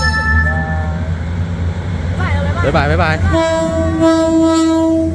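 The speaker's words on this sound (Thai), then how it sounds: "นี่รถไฟกำลังมาเลยเห็นไหม เราอยู่ริมรางรถไฟ" A train rumbles past close by while its horn sounds in long sustained blasts, with a person talking over the noise.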